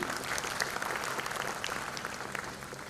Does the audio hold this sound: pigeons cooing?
no